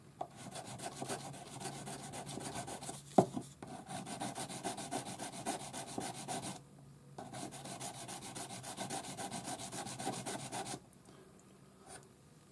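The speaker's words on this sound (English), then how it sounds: "400 grade paper on your sanding stick" A ring being sanded with 400 grade paper on a sanding stick, a close, steady rhythmic rubbing rasp in quick strokes, pausing briefly twice before resuming.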